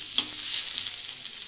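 Eggplant, potato and flat beans fry over medium-high heat in a pan with a steady close sizzle and a soft stir.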